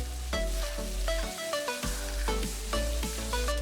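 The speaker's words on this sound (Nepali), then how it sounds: "वाइ वाइको मसला पनि हालेर मजाले चलाई बाक्लो पेस्ट बनाउनुहोस्" Wai Wai instant noodle masala paste sizzling in a pan while being stirred into a thick paste, a close, continuous fry with repeated spatula scrapes and sharp crackles in an uneven rhythm.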